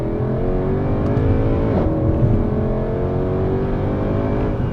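A Mercedes C63 AMG with a 6.2L V8 launches from a race start, its engine roaring loud and steady as the revs climb throughout, with no talking.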